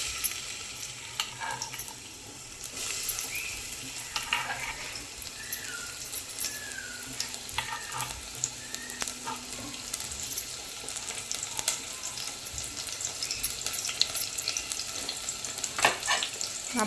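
Chopped onion for chicken biryani fries in oil in a pan, a continuous close sizzle with scattered crackles and occasional scraping clicks of stirring.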